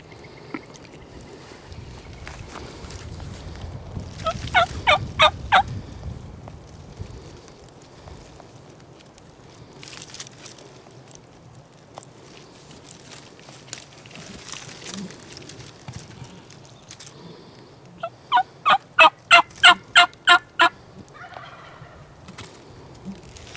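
A wild turkey gobbles during a spring hunting opener in Washington State, two rapid rattling bursts several seconds apart, at a distance over quiet outdoor ambience and low rumbling.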